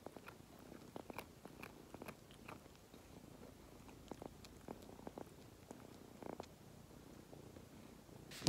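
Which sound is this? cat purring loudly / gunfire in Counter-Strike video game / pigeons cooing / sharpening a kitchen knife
cat purring loudly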